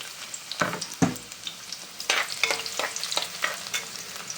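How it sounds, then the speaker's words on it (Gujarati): Garlic sizzles in hot oil in a pan for a vegetable and dry fish dish, crackling loudly as a spoon stirs with repeated scraping strokes, close up and with no talking. "હવે પહેલાં લસણ એડ કરવું છે"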